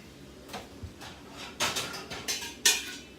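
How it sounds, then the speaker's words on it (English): Noodles going into a pan while cooking ramen with a duck egg give a few short clattering and sliding hits over about three seconds, fairly close, with no talking. "We're gonna add the noodles to the pan just like that."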